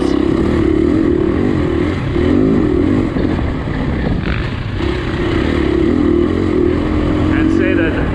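KTM 350 dirt bike ridden on singletrack trails in Michigan, its engine droning loud and close throughout with steady throttle and slight dips, a rider talking over the noise.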